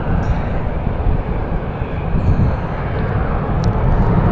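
A Southwest airliner taking the runway at Las Vegas airport, its jet engines producing a loud, steady rumble and roar that holds throughout.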